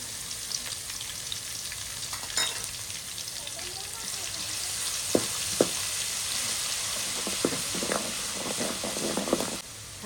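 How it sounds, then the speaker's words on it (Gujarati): Crushed garlic fries in hot oil at the start of a chicken curry: a loud, steady sizzle fills the pan, broken by a few sharp clicks of stirring and an occasional voice in the background. "તો આપણું તેલ ગરમ થઈ ગયું છે તો પહેલા આપણે ખાંડેલું લસણ નાખી દેવાનું છે એમાં"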